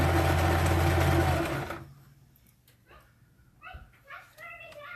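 A sewing machine stitches a dress made from a men's T-shirt in a brief, loud, steady burst up close, then stops. A voice talks quietly afterward.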